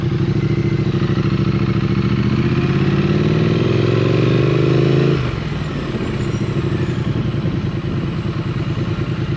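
A Triumph Street Twin motorcycle engine with stock exhaust runs loud and close, its pitch climbing as it accelerates, then dropping to a steady lower rumble.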